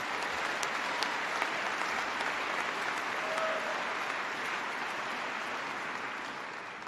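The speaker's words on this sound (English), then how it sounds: "Give them a big round of applause." Audience in Denver applauds at a Barack Obama speech, a dense, even wash of clapping that holds steadily for several seconds and fades slightly at the end, heard from a distance.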